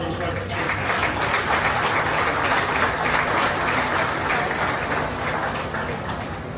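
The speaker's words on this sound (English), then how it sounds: "give these kids one great big round of applause" Crowd in the stands at a county fair beef show applauding the kids, a dense and sustained round of clapping that swells and holds for several seconds before easing slightly, with no talking over it.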